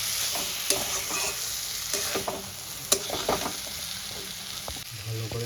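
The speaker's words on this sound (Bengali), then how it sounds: "ধনে পাউডার, লঙ্কা পাউডার, জিরে পাউডার, সব মশলাগুলো দিয়ে খুব ভালো করে কষিয়ে নিচ্ছি" Ground coriander, chili and cumin powders stir-fried in a pan for katla fish curry, with steady sizzling under repeated scraping and stirring strokes from a spoon, close and fairly loud.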